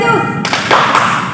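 Hand clapping in a Sunday school church service for a Tepuk Tuhan Yesus cheer, a couple of quick claps and taps close by, with a voice chanting over them.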